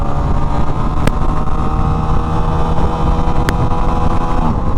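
A 2024 Aprilia RS660 Tribute motorcycle riding at speed, its engine droning loud and steady with brief clicks of clutchless gear shifts, wind and road roar underneath, no talking.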